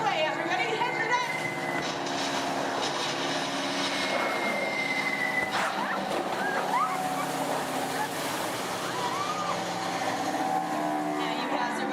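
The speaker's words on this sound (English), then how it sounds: "You hear more enemy planes approaching." Enemy bomber planes approaching during a theme park show at Walt Disney World: a broad, steady engine-like roar with sustained tones and rumble, loud throughout, with voices talking over it.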